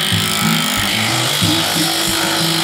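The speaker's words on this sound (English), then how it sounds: "If you don't have a rattle gun and a universal, man, it just makes this so much better" An impact wrench loosens the leaf spring bolts on a Durango during a one-ton axle swap. Its loud, close, continuous mechanical whir and hammering shifts in pitch throughout and plays alone.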